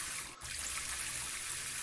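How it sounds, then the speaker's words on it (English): Water running steadily into a tank at a leak-detection monitor test setup, a constant close hiss and trickle with no pause, no voices. "And you hear the water just running."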